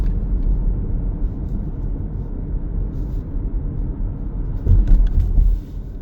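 Steady low rumble of a car cruising a road through New Vernon, New Jersey, heard from inside the cabin, with a brief louder swell of road noise near the end.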